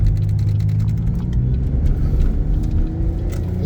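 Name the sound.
car engine accelerating while driving in traffic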